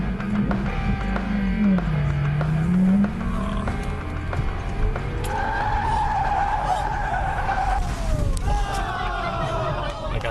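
A car skids and crashes in a played-back clip, with loud, wavering tire squeals over a steady roar of engine and crowd-like noise that fills the whole stretch.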